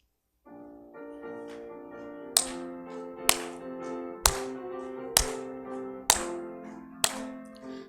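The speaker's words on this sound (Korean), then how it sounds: "우리 박수 치면서 한번 찬양해 보겠습니다" During a church service, a congregation claps along to a hymn: six sharp, evenly spaced claps, roughly one a second, ring out over sustained keyboard chords.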